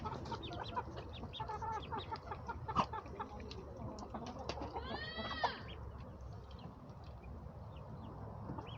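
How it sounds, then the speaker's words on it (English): Baby chicks and ducklings kept together chirp in a steady, busy chorus, with high peeps layered over soft background rustle throughout, one brief louder call standing out near the middle. "Little baby duckies and the baby little chickens together."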